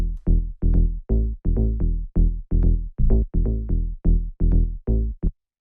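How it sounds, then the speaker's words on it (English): Simple tech house bass line jumping from E up to A, a steady run of short punchy synth bass notes, loud, alone and tightly rhythmic. "Next thing that we have here is the bass"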